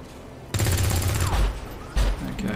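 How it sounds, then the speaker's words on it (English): Gunfire in XCOM 2, a loud sustained automatic burst followed after a pause by another heavy volley, with booming low impacts. "so he's just going to shoot at that thing"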